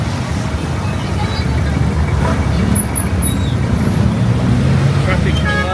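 Busy road traffic in the Philippines, a continuous dense roar of cars, buses and trucks close by, with horns and engine tones rising out of the din and people talking in the background.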